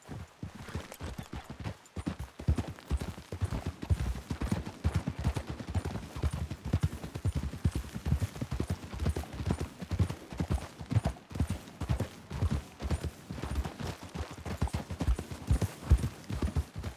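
Horse hooves in the video game Red Dead Redemption 2 clip-clop in a steady, brisk rhythm for a long stretch, close and clear, with no talking.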